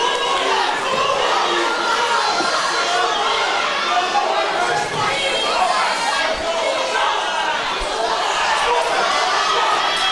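Spectators at an amateur boxing club home show roar and cheer continuously, a loud, dense crowd noise with high shouts, while a ringside commentator talks over it.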